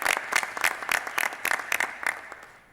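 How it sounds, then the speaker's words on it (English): An audience claps together for a speaker being introduced at an event, a short burst of applause that fades out over a few seconds. "A round of applause for Pavel."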